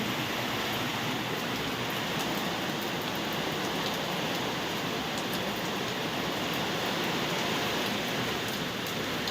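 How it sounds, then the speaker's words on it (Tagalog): Heavy rain pours down steadily and loudly, a dense continuous roar of water drumming on surfaces that fills the whole stretch with no let-up and no voices. "Lakas ng ulan eh."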